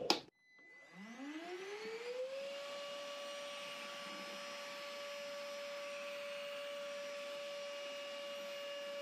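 A Carrefour cordless wet and dry vacuum cleaner switches on with a click, its motor spinning up over about two seconds into a steady, close, high-pitched whine that holds constant.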